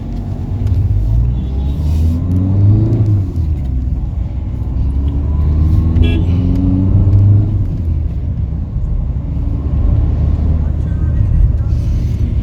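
A Ford EcoSport 1.5 diesel car accelerating, its steady engine rumble rising and holding loud throughout, with a person talking over the cabin noise.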